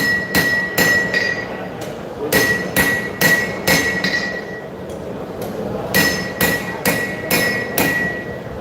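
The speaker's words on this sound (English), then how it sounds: "A little bit of planishing." A hammer planishes a forged knife blade on an anvil at a live knife show demonstration, striking in bursts of several sharp, ringing metallic blows with brief pauses between groups.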